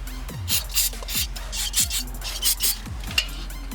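Brake cleaner being sprayed and scrubbed over car pedals during a Mugen pedal install on a Honda Del Sol, with repeated close rasping and rubbing strokes in short irregular bursts.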